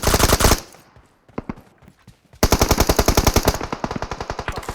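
Loud rapid automatic gunfire from PUBG on the Livik map, a close burst of evenly spaced shots, then a lull with a few scattered single shots, followed by another long sustained burst.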